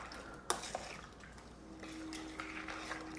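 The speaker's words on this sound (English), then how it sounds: "we're just going to give this a good stir" A mango chutney mixture is stirred in a pot, with a sharp utensil knock near the start, then soft scraping and clinking against the pan. No one speaks.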